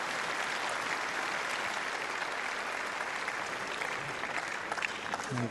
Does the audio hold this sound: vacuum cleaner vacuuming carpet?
no